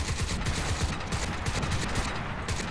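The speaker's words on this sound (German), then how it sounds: "Wer schießt denn?" Rapid gunfire from the Crysis 2 video game, a dense, continuous barrage of shots rattling loudly and close throughout, with no talk over it.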